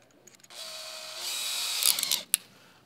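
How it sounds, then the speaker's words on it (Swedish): A battery-powered cordless drill whirs steadily for about two seconds, close and clear, then winds down with a brief click after it. "Det här är en batteridrill."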